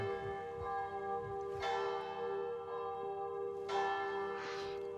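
Church bells toll in the video game Sniper Elite Resistance, a steady sustained ringing with fresh strikes swelling at intervals, loud and unaccompanied by voices.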